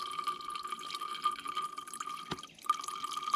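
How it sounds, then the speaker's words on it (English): Water is pumped by hand from a tank through a portable filter outdoors, giving faint, steady trickling and dripping with a soft, continuous tone and one sharp knock partway through. "I may as well filter some water while I'm here, since the tanks are close by."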